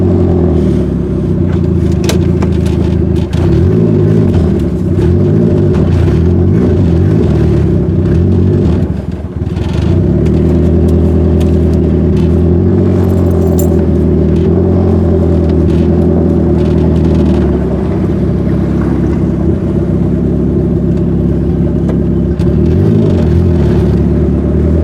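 Turbocharged Acura Integra engine droning loudly and steadily from inside the car while driving, with a sustained rumbling tone that surges and dips in revs, plus faint rattles and clatter over it.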